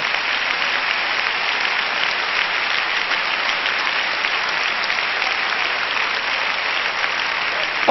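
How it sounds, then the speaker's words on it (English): A church congregation claps together in sustained, dense applause for the Lord, a steady even wash of hands that fills the space from start to finish without a break. "Would you clap one more time for the Lord?"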